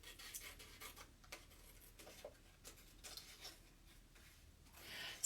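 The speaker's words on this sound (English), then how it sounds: "I'm just going to cut this off, and then I'll cut this guy out." Paper for a cut-file craft project is snipped with scissors, giving quiet, scratchy cuts in short irregular bursts. The snips come one after another at a close, soft level, with no speech.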